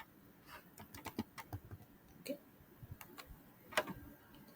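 Fingers type on a computer keyboard with a quick, uneven run of light clicks and a few sharper key strikes, close and soft, with no talking.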